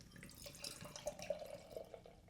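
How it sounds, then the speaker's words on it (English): Hoppy ale poured from a Crowler can into a glass, a close, quiet gurgle and splash of liquid with light dripping and fizz over a couple of seconds. "So what I'm going to try to do is pour this into the glass."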